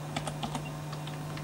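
Light, quick clicks of fingers typing a web address on a computer keyboard, a handful of close keystrokes in a short run under a steady electrical hum.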